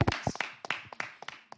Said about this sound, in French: On applaudit Jeanne